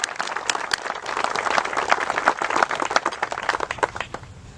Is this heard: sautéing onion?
no